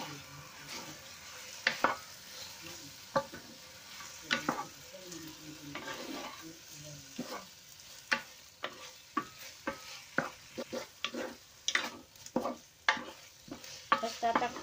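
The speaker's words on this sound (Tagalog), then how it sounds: "Halo lang natin." Chicken tinola is stirred in a pot, with repeated scraping knocks of the spoon against the metal over a soft sizzle, close and irregular in rhythm.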